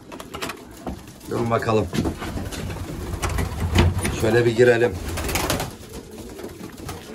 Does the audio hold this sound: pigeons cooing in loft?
yes